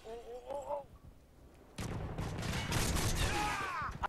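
Call of Duty: Modern Warfare 3 gunfire erupts after a short spoken exclamation, a sustained rapid automatic burst of loud, dense shots lasting a couple of seconds, close and continuous.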